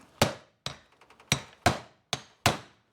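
Hammer pounding on the rear bearing race of a 1978 Silver Anniversary Corvette during restoration: six sharp, loud metallic strikes at an uneven rhythm, close by, with a few faint light taps between them and no talk.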